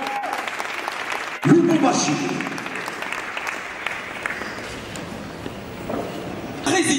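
An audience applauds a presented pair in Lubumbashi, a steady wash of clapping rising after a brief pause while an announcer speaks over it.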